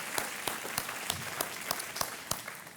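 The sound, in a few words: audience applause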